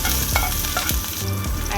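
Green chilies and cumin seeds fry in a pan with a steady, loud sizzle, while a utensil stirs through them with occasional scrapes and knocks.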